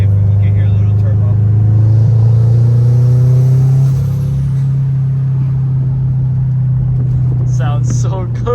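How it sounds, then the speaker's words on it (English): A 1003 hp Subaru WRX STI on an IAG Stage 4 Extreme setup idles with a deep steady engine drone and hum, rising slightly mid-clip then easing off, close and loud, with a brief voice near the end. "Let's see if we can hear a little turbo."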